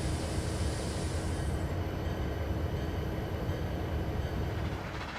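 A steam train on a snowy line in Steamnation rumbles steadily along with continuous rolling noise, wheels and carriages clattering throughout, fairly loud and without voices.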